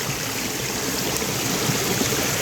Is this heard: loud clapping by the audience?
no